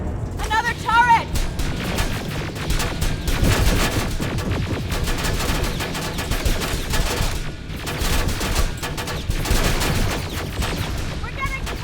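Turret gunfire hammers away in Terminator: Resistance, sustained rapid bursts of loud close shots with booming impacts, while voices shout over the barrage.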